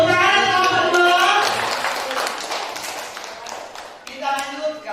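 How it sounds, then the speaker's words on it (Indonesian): Classroom applause for group 2: a dense patter of many hands clapping, with children's voices and an adult voice running over it and thinning toward the end. "tepuk tangan kelompok 2"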